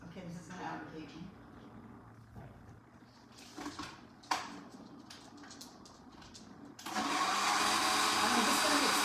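A protein shake is whirred in a blender jug: quiet handling and a few soft knocks, then the motor kicks in near the end with a loud, steady, close roar that continues to the finish.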